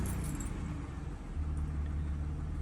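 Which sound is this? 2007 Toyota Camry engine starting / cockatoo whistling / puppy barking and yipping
2007 Toyota Camry engine starting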